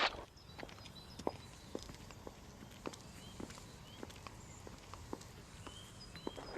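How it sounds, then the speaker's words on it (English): Loose, flip-flop-like shoes slap along a footpath in a soft, irregular patter of faint steps, heard over a steady outdoor background with occasional distant birdsong. "shoes that sound like flip-flops."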